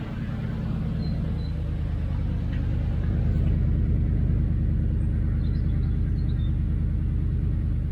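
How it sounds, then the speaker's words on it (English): A 1971 Triumph Stag engine fitted with Stromberg carburettors idles at a steady, slightly raised speed, a loud, even low rumble with a regular pulsing beat throughout. "The idle speed's gone up now."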